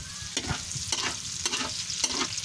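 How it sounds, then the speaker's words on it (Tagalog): Food sautéing in a pan on an outdoor cooking setup, with a steady hiss of frying and four distinct stirring scrapes spaced roughly half a second apart, close and moderately loud, without speech. "Ayan, nagisa na natin."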